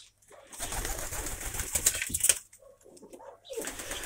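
Soft pigeon cooing and rustling at close range, with brief fluttering bursts and a low murmur of background noise throughout.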